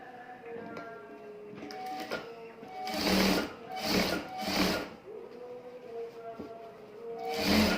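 A sewing machine stitches in several short bursts, with fast rhythmic whirring runs of about half a second each between quieter pauses and faint handling noise, recorded close by.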